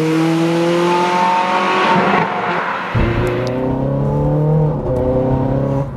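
A Ferrari 430 Scuderia's engine roars loudly as the car accelerates hard, rising in pitch, dropping abruptly with a gear change near the middle, then climbing again close and steady.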